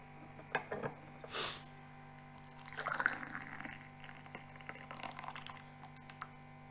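The second steep of Qimen black tea, brewed gongfu style, is poured out in a soft, faint trickling stream that tapers into light drips.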